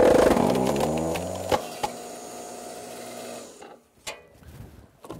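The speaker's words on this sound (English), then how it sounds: "But the electric log splitter goes right through it, no problem." A WoodEze electric log splitter drives through a knotty beech log with big forks, its motor whining steadily under a few sharp cracks of splitting wood, then cutting off, with a couple of louder snaps afterward.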